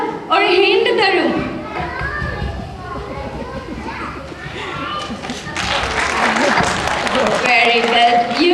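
An audience at a live stage event bursts into clapping, with loud, dense applause and children's voices rising together in the second half, after a speaker talks over a lively crowd.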